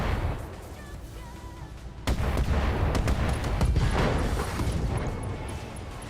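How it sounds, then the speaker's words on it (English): A clan plasma cannon fires in the Battletech Advanced 3062 video game, a sudden heavy blast that erupts partway through and rolls on as a loud, sustained crackling roar over a rumbling background. "And shot with our brand new clan plasma cannon"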